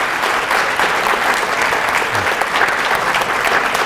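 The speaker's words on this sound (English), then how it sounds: "One more round of applause," Steady, dense applause from a lecture audience at a bulb show event, loud and continuous throughout with no talk over it.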